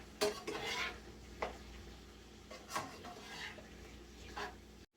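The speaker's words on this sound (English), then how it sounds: "As you can see, my meat's still browning" Ground beef browns in a pan for tamale pie, with a quiet, close utensil stirring and scraping in several separate strokes over a low sizzle.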